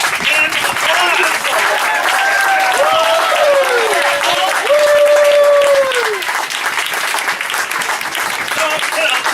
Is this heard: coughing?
no